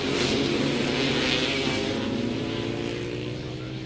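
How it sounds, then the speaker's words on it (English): Grasstrack racing motorcycles at the 2002 Sussex Smuggler meeting accelerating hard down the back straight, a loud continuous engine roar with steady rising drone, a little distant, no talk over it. "Winding up the throttle, chasing that bike out of that corner"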